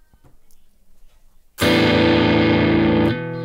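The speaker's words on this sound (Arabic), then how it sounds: "سامع الصوت الوحش اللي طالع معاه ده جاي من الديستورشن" Electric guitar through a distortion pedal with the gain raised: faint quiet picking gives way to a loud, sustained, heavily distorted chord that rings for about a second and a half before fading to a lower hum.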